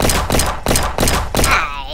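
A gun fires in the Roblox game Jailbreak, four loud, evenly spaced shots in quick succession, the last trailing off with a ringing tail.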